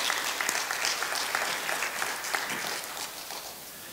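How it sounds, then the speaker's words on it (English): Applause from a church congregation for a family member at a Mother's Day service, a dense, steady clapping from a sizable crowd that holds through the clip and tapers slightly at the end. "Want to call her and clap for her?"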